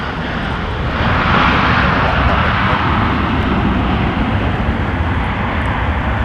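A landing airliner at Minneapolis–St. Paul airport in winter gives a loud, close jet roar that builds after the first second and holds steady, with a broad hiss and no talk.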